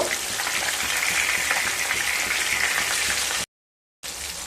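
Katla fish pieces fry in hot oil in a pan, a dense steady sizzling hiss with no talk, broken by a half-second gap of silence before the frying sound resumes.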